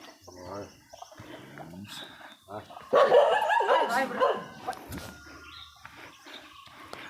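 Dogs bark around a tribal forest village where leopards and elephants roam, a loud burst of barking and yelps in the middle with people talking before and after.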